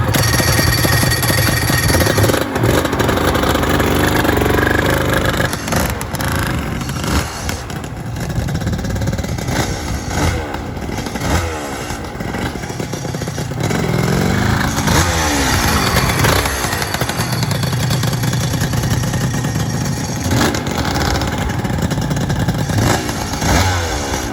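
A Honda NSR250R-SP two-stroke motorcycle engine runs loudly and steadily close by, revving up and down repeatedly over the whole stretch with no talking.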